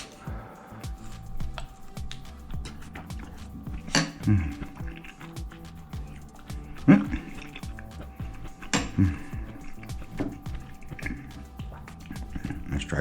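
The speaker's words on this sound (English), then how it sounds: "Sorry for the dishwasher noise" A dishwasher runs in a home kitchen, dishes and cutlery clinking and clattering intermittently over a running, watery hum, with a few sharp knocks and people talking nearby.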